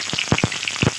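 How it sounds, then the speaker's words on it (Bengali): Chopped onion hits hot mustard oil in a wok, giving a short, close sizzle that crackles with a few quick bursts. "কড়াইয়ে দিয়ে দিচ্ছি সর্ষের তেল, দিয়ে দিচ্ছি পেঁয়াজ কুচি"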